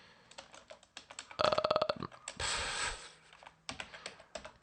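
Quick bursts of key clicks on a computer keyboard as a command is typed, close and crisp, with a brief louder noise in the middle and no talk.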